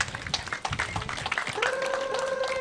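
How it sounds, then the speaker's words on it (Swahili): Audience applause at the official launch of a material recovery facility in Chakaleri, Mwatate, a brief burst of scattered clapping from a crowd, moderately near, with a tonal sound emerging toward the end. "naomba tumpe makofi mazuri"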